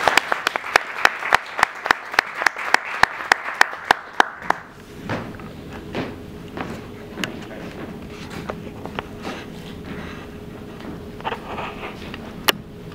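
An audience at a storytelling and human rights event applauds a speaker coming to the stage, steady clapping that starts crisp and fades into scattered claps, shuffling and thuds in the room.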